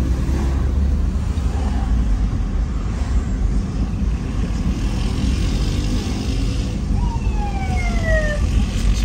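An emergency vehicle siren wails through a busy street in central Tijuana, rising and falling over steady traffic rumble, with the sweeping tones growing clearer toward the end.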